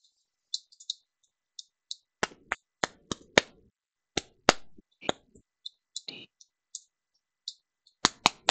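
Sharp clicks of someone typing a chat message on a keyboard, arriving in irregular bursts with short pauses between, fairly close and alone without talk.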